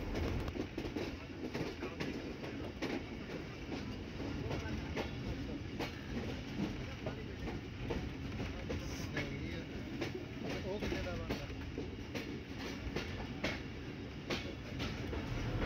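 Ravi Express passenger train rolling through Qila Sheikhupura toward Lahore, a steady loud rumble of wheels and carriage noise with faint rhythmic clatter, heard from inside the train throughout.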